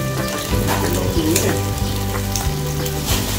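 Food sizzles and crackles loudly in a hot pan, a steady frying hiss with occasional pops and stirring sounds, close up, no talking.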